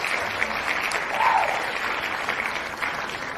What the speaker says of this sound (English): I want to give a round of applause for all the callers